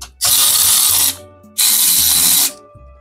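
Electric screwdriver driving a screw into a PC component during a Ryzen 7 8700F and RX 6600 build, with two loud, steady whirring runs of about a second each, separated by a short pause.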